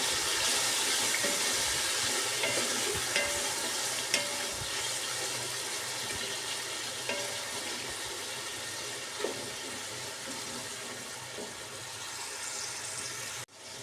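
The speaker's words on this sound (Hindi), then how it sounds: "अब मैं इसमें डालूँगी टमाटर और 1-2 मिनट के टमाटर की भी भुनाई करनी है।" Steady loud sizzling of tomatoes frying in a pan, continuous throughout with occasional small clinks.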